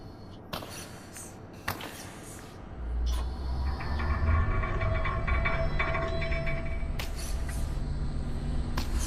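In the VR game Lone Echo 2, a tram is released with a couple of sharp mechanical clunks, then rumbles into motion in a steady, rising rail-like roll and hum that carries on to the end.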